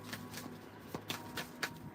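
Tarot cards shuffled by hand in short, quiet riffling bursts, several soft flicks close up with no talking.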